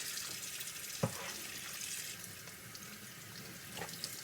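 Cold tap water runs steadily over ribs being cleaned before smoking, a constant soft hiss with one brief clunk near the start.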